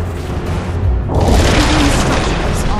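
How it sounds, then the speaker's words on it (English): A tower in the video game Dota 2 is destroyed in a loud, deep boom that swells after a quieter opening, then a rumbling, crackling blast lingers to the end, with no talk over it. "Radiant's top tower has fallen."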